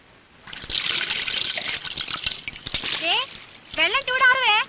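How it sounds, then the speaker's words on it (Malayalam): Water splashes and pours in bursts as someone bathes, a continuous wet sloshing broken by quick gushes, with a voice speaking briefly near the end. "കുളി കഴിഞ്ഞോ രാജി?"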